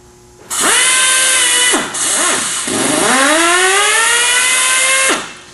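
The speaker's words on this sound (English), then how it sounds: "So now I'm breaking that nut free." Torc-Up Raptor hydraulic torque wrench breaking free a nut torqued to 200 foot-pounds, loud whining motor bursts that rise and fall in pitch across several pulses, with a brief pause, close and alone.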